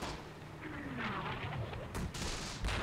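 Gunfire and artillery on Omaha Beach in the D-Day battle game Close Combat, scattered distant shots and booms with a whistling incoming shell, a sharp burst and a loud thump near the end, no speech.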